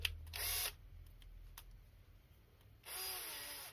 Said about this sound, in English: Handy little drill, little Bosch.